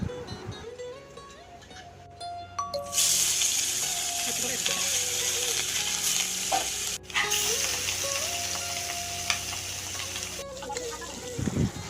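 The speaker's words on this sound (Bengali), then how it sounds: "এখন মাছগুলিকে একটু ভেজে নেব" Fish seasoned with salt and chili powder fries in a pan: a quieter start gives way to a loud, continuous crackling sizzle, with a faint tonal hum running underneath.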